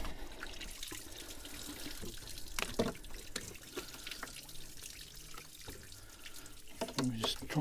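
Water runs and trickles steadily out of a Citroen DS4 Sport 2.0 HDi cooling system while it is being drained, with some drips and clanks. The flow stays moderate throughout and there is no speech.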